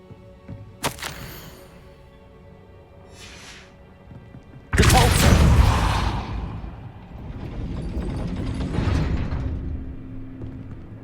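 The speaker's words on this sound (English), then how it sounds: "Confringo. That looks as if it might raise the gate." A heavy gate mechanism grinds and thumps into motion in the Hogwarts Legacy video game, a loud mechanical rumble and scrape rising suddenly after a few faint clicks and swishes, then settling into a sustained churning grind.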